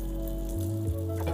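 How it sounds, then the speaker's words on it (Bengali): Onions sizzle and fry in a pan for poha, a brief, fairly quiet hiss close by with no talk. "পেঁয়াজটাকে খুব ভালো করে ভাজবো"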